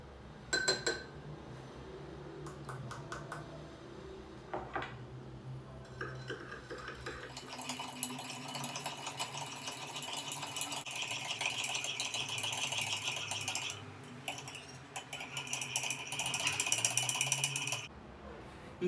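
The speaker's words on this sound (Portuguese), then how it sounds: "Eu vou despejar esse açúcar aqui dentro do copo com água e vou mexer" Metal spoon stirring sugar into a glass of water, a sustained run of rapid clinking and rattling scrapes against the glass lasting several seconds, preceded by a few scattered taps and the pouring.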